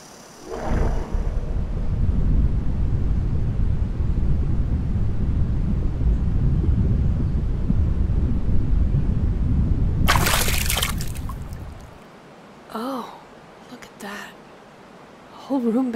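A rushing waterfall pours as a loud, steady, broadband roar that holds for about ten seconds, then drops away sharply as a nearby voice begins speaking over a quieter background.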